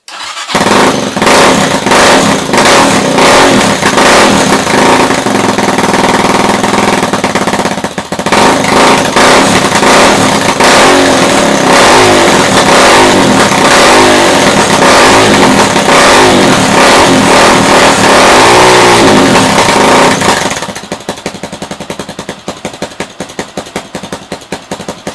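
A loud Minsk X250 motorcycle engine with an open Akrapovic-style straight-through exhaust revs hard in repeated bursts, close up, then settles to a rough, crackling idle near the end.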